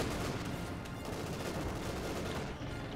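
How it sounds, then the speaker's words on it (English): A light artillery barrage in the World War II strategy game Company of Heroes 2 rumbles as a dense, continuous roll of overlapping shell blasts, fairly distant and steady throughout. "someone threw down a light artillery barrage there"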